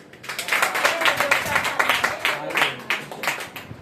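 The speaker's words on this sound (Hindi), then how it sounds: "एक बार अमित जी के लिए भी तालियां हो जाए।" A church congregation claps together at a live service, a dense burst of applause that holds steady for several seconds, with voices mixed into the clapping.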